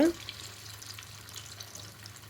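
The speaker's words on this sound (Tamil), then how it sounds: "நெக்ஸ்ட்டு ஆயில் நல்லா ஹீட் ஆனதுக்கப்புறம் சீஸ் பாலில் போட்டு நல்லா பொரித்து எடுத்துக்கோங்க" Cheese balls deep-fry in hot oil over a medium flame, a steady close bubbling hiss that holds evenly throughout with a faint low hum underneath.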